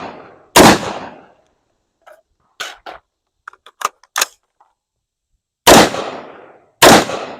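Sharp, loud shots from a PSA Sabre 18 rifle, a few separate reports spaced apart with quieter metallic clicks and handling noises between them, each crack ringing out briefly before fading.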